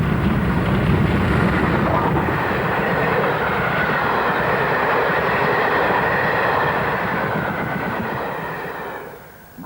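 Great Western locomotive Burton Agnes Hall hauling the Cathedrals Express on its home route from Didcot, a loud, steady rumble and roar of the passing train that holds for most of the stretch, then fades away near the end.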